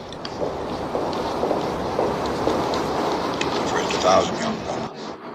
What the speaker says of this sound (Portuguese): ouvimos ao fundo o barulho de um trem que passa ali por perto